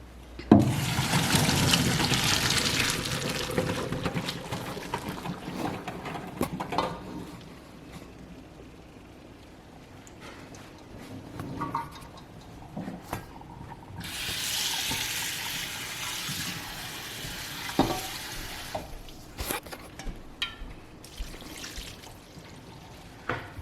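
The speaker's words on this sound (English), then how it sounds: "I'm gonna strain the water off of the pasta." Water pours and splashes into a sink in bursts as pasta is drained in a strainer, then trickles and drips, with clattering of cookware between pours.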